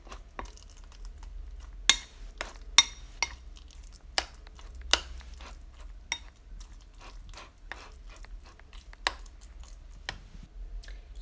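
Lemon juice being stirred into a raw vegan sprouted sunflower seed cheese mixture, with quiet scraping and a handful of sharp utensil clicks against the bowl scattered over about eleven seconds, close and fairly soft.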